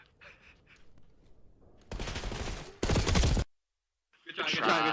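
Call of Duty gunfire comes in two loud bursts of shots separated by a brief silence, followed by more game noise, with quiet voices before the shooting.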